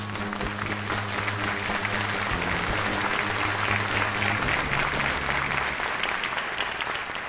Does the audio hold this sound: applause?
yes